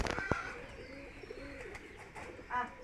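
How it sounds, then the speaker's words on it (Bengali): Pigeons cooing in the morning, a few soft, low, rounded coos close by against quiet background, with a brief sharper sound near the start. "ওদের গুটু গু আওয়াজটাই ভালো লাগে"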